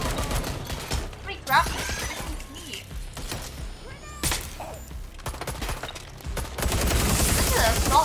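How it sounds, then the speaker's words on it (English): Assault rifle fire crackles in bursts during a Watch Dogs Legion online co-op match, mixed with shattering and crashing impacts, while a player talks over the action. "这是 assault rifle。"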